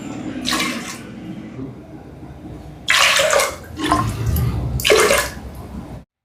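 Water is poured in three separate gushing bursts onto washed lentils in a cooker pot, each splash loud and close, with quieter pauses between pours before stopping abruptly.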